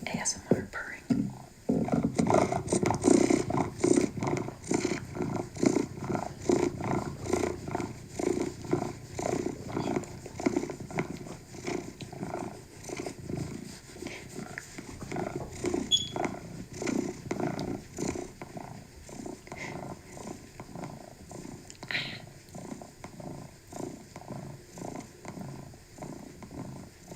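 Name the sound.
cat purring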